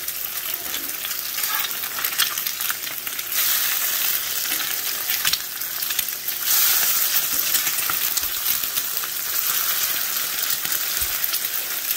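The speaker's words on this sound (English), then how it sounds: "So this is eggs and the bacon fat." Eggs fry in bacon fat with a steady, loud sizzle and crackle throughout, with occasional spatula scrapes.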